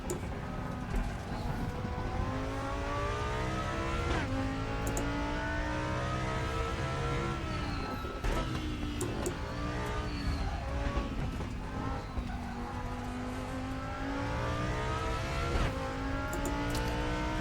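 Race car at Brands Hatch in the RaceRoom video game, engine revving up through the gears with repeated rising pitch sweeps and sharp downshifts, loud and continuous, with faint tire scrub.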